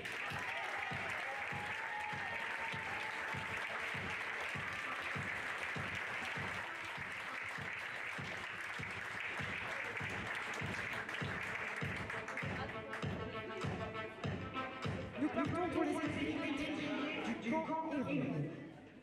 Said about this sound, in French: je vous demanderai de les applaudir bien fort, car ils le méritent.